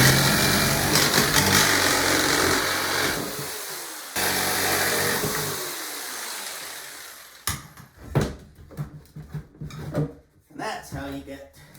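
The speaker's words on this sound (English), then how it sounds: "I had to break out the power tools to" Power tools break out a wall during a bathroom sink demolition, starting with a loud continuous grinding roar that cuts out, resumes, then gives way to scattered knocks and clatter of debris, with a voice talking at times.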